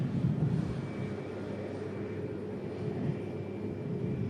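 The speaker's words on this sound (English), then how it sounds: "Aircraft heading back to Cairo" An airliner bound for Cairo, Egypt passes at a distance, a low steady engine rumble and roar holding throughout, fairly faint over light outdoor breeze, no speech.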